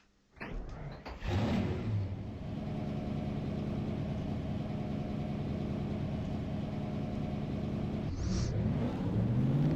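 Race car engines in NASCAR Racing 2003 at Beech Ridge, a PASS North Series event: after a brief quiet start, a loud sustained multi-car engine drone with steady harmonic revving builds and holds, swelling again near the end.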